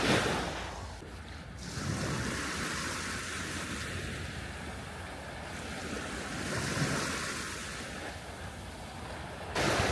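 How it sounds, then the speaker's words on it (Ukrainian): Waves of the Baltic Sea near Gdańsk wash steadily ashore in a continuous surf roar with gusty wind buffeting the microphone, swelling slightly louder at a couple of points. "Залишаю вам звуки моря на фоні."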